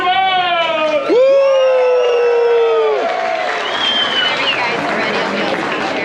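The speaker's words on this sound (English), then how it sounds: "Let's give them an applause. Let's cheer them out." Crowd cheering and applauding on the porch at the Big Texan, a steady wash of clapping and whoops under a loud voice calling out, with sustained cheers rising over the noise.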